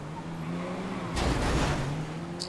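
A car in GTA 5 Online drives with a steady engine hum, then a sudden louder burst of rushing, skidding noise midway before settling back, with a short bright tone near the end.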